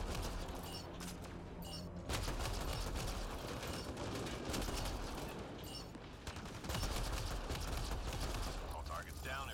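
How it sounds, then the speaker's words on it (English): Dense, continuous gunfire from a firefight against a Krogan in the game Mass Effect Andromeda multiplayer, with rapid bursts and booms layered throughout and a voice talking underneath. "I'm shooting the Krogan."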